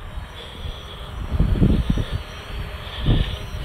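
A Fimi X8 SE drone hovers in place near a building, its steady high rotor whine running throughout under a rumbling, gusty background of wind and low thumps, with no talking.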